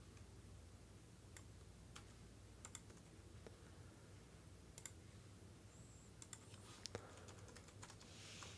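Faint computer keyboard typing: scattered, quiet key clicks in short irregular bursts over a low background hum, with no one talking.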